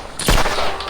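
Burst of video game gunfire in Sierra 7, a sharp loud volley of shots with a rattling tail, close and alone for about a second.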